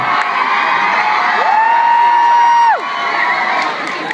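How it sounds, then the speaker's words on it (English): Concert crowd at the Bristol O2 Academy cheering and whooping between songs, loud sustained roar with high shrill shouts and whistles, fading slightly toward the end. "You can always cheer for more of that."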